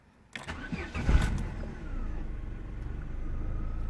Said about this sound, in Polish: uruchamiamy sobie silnik